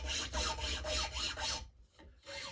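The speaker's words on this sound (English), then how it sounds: "I use the chainsaw file to kind of smooth everything up." A chainsaw file rasps over a carved traditional powder horn, smoothing the throat bands in steady back-and-forth strokes, close and loud, with a brief pause before the last stroke.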